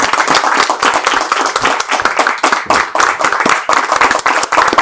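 Dense, continuous applause from an audience at a community gathering, many hands clapping loudly and steadily for the full length with no gaps.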